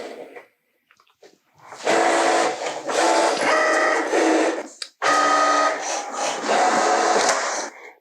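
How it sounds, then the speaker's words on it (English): A Cricut cutting machine scores and cuts envelope paper on its mat, giving a close whirring, motorised buzz in several bursts of one to two seconds, with short pauses between passes and brief near-silence at the start. "First, the machine is gonna score, then it's gonna cut."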